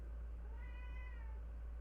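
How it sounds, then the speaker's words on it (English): A pet cat gives a single soft meow that rises and falls, faint and alone against a low background hum. "And that's my cat."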